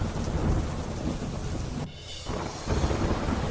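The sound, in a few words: heavy rain with thunder and strong wind in Amreli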